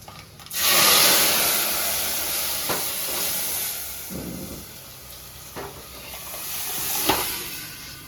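Hot tempering poured into cooked amaranth dal bursts into a loud hissing sizzle that slowly fades to a gentle steamy crackle with occasional pops, close by.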